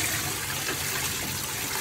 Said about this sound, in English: Alright, draining the water.